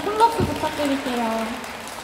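A concert audience claps at a live anniversary performance, a steady crackling patter of hands over about two seconds, mixed with a faint tonal voice or music underneath.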